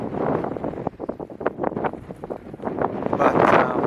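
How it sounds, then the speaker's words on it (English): Strong wind howling at a beach on the Eyre Peninsula, buffeting the microphone in a continuous loud rush with gusty surges and rumbling low noise, no voices heard. "oh, windy. I'm sure you can hear it. It's howling its head off."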